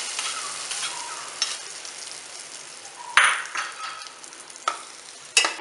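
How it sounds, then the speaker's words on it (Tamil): A tempering of mustard seeds and curry leaves in hot oil goes into a jackfruit avial, giving a soft, steady sizzle and crackle with a few sharp metallic clinks from stirring. "இப்போ நம்ம தாளிச்சதை இதில் போட்டுடலாம்."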